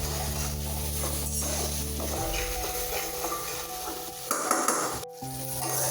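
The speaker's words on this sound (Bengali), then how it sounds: "এই তো আমি মশলাগুলো সুন্দর মতো নেড়ে চেড়ে কষিয়ে নিব।" Spices for a pangas fish curry are stirred and fried in a pan, a steady close sizzle with scraping and light clinks of a utensil against the pot, briefly louder near the end.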